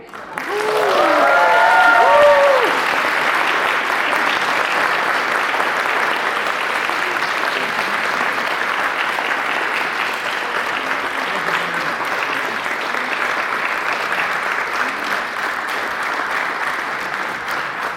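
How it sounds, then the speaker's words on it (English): An audience breaks into long, steady applause at a music and culture event, with a brief vocal cheer or whoop at the start before the clapping carries on evenly. "Applause to him."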